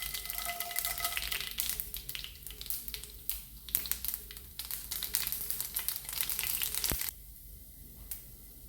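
Urad dal, chana dal and mustard seeds fry in a small amount of oil, a close crackling sizzle with sharp pops and spoon knocks that drops to a quieter hiss near the end.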